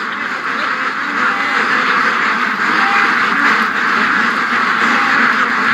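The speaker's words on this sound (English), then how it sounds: "We're definitely going to have some Muscovy flying action here" Muscovy ducks quacking loudly and continuously at close range, a dense raucous flock with possible wing flapping mixed in, with a voice faintly audible.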